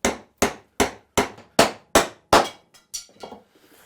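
Sharp hammer taps ring out in a steady series of about ten strikes, driving a wood dowel down through a metal dowel plate, fading lighter toward the end.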